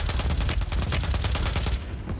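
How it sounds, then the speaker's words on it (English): Rapid gunfire bursts in a first-person shooter, a dense continuous rattle of shots hitting the player, loud and close throughout with no talking. "Someone shot me here."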